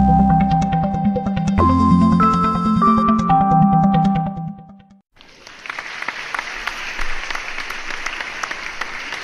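An audience bursts into dense, sustained applause after a musical passage fades, clapping loudly and evenly for several seconds.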